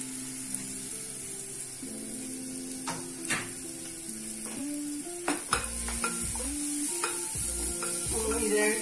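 Bitter gourd peel frying in a pan, a soft constant sizzle with repeated clinks and scrapes of a utensil stirring against the pan, close and moderately quiet, no voices.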